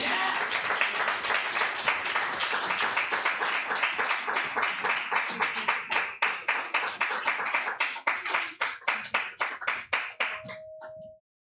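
An audience at a Los Angeles book launch for Cahuenga Press breaks into warm, sustained applause that gradually thins into scattered individual claps before stopping.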